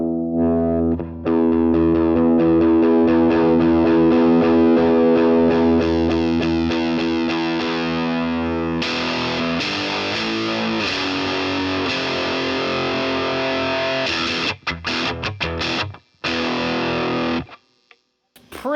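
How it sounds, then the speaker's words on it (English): A Stratocaster electric guitar run through a Boss DS-1 distortion pedal plays loud, sustained, gritty chords and riffs that keep going without a break, then cut off into short choppy stabs and a brief gap near the end. "let's go ahead and add a little bit of distortion in here"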